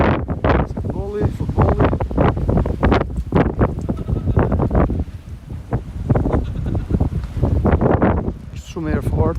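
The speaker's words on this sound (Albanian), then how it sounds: "Shumë erë fort, ndjes." Strong gusts buffet the microphone outdoors in the town of Gramsh, giving loud, uneven rumbling bursts throughout, with someone talking over the wind.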